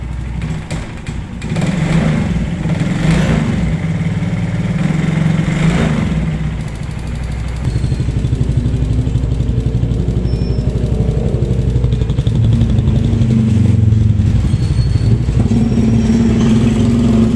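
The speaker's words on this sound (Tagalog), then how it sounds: "maingay nga yung makina niya" A 2014 Suzuki Shooter 110 motorcycle engine with a knocking fault runs steadily close by, a continuous loud mechanical drone and rattle with no talking.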